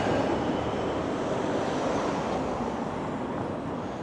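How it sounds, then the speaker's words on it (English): The 97C Yonge night bus passing on a downtown Toronto street in the small hours, a steady broadband engine and tyre roar close by that holds level and eases slightly as it goes. "There's the 97C Young Bus."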